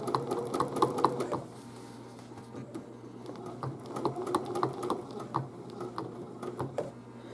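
A home sewing machine stitches a Christmas quilting design in steady rapid bursts, pausing briefly between runs of needle strokes, close and clear with no talking.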